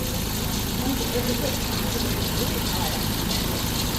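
A 2.0 Bi-turbo car engine idles just after start-up, following fuel-injector repair work. It gives a constant, dense mechanical drone close by, steady with no revving.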